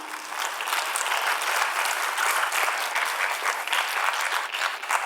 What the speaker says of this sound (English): Clap, yeah.